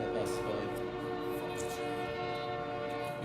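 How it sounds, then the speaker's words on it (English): A train passing close by, a loud steady rumble with a sustained horn-like tone throughout, voices faintly underneath. "we forgot we have a fucking train that passes by"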